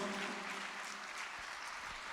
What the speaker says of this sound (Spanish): Le damos un aplauso a Dios.